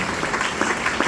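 A church congregation at a worship service applauding in acclamation, a brief, dense, steady burst of many hands clapping close by, with a murmur of voices beneath.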